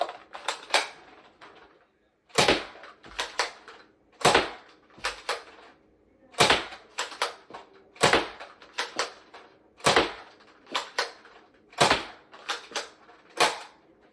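A Dart Zone Blitz Fire 2 toy blaster fires foam darts in rapid bursts, each shot a sharp, close snap, often in clusters of two or three with brief pauses and mechanical clicks between volleys.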